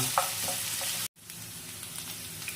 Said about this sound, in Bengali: এগুলো একটু ভালোভাবেই কষিয়ে নিতে হবে